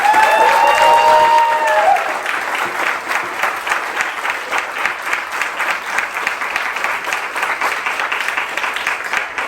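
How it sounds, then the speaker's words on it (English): Crowd of strike rally supporters at Brown University applauds steadily for over nine seconds, dense even clapping with a voice trailing off at the start before the applause carries alone. "So give a round of applause to yourselves."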